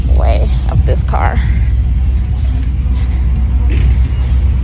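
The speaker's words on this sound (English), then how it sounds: "Let me get out the way of this car." A car rolls past close by on a Miami street, its low engine rumble and road noise filling the scene steadily while a person talks over it.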